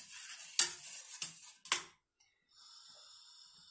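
A spoon stirring salt into a pot of boiling water, a few scraping, clinking strokes against the pot, close and clear, followed by a soft steady hiss of the water.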